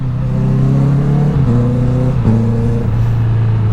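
A motorcycle engine held under steady load while shifting up without the clutch: a loud continuous drone whose pitch drops in distinct steps at each gear change, close and without speech.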